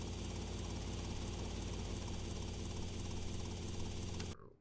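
Helicopter in a video game, a steady loud rotor and engine drone with dense broadband noise that holds evenly, then cuts off abruptly near the end.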